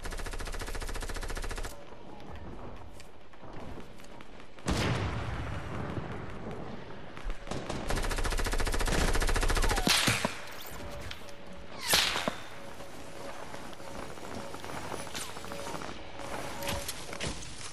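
SMG fire in Fortnite, with repeated bursts of rapid gunfire and sharp cracks across a busy stretch, including louder sustained spraying in the middle and scattered shots later. No one talks.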